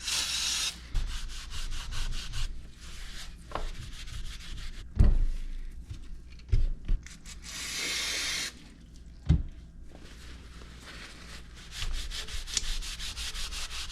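Rough rubbing and scrubbing noises with intermittent hissing brake cleaner spray bursts and occasional knocks as KTM motorcycle linkage and swingarm parts are cleaned, close by, continuing steadily with no talking.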